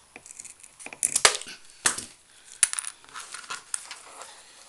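A small piece is cut off for a children's Easter cart craft: a series of short, crisp crunching snips and clicks, quiet and close, with no talking.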